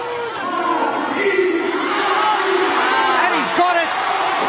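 Crowd roaring and cheering at a CrossFit regional snatch event, a steady loud wash of voices throughout with an announcer talking over it.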